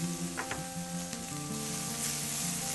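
Minced garlic hits a very hot pan alongside mahi mahi fillets, giving a loud, continuous close sizzle with a couple of brief utensil clicks near the start and no talking.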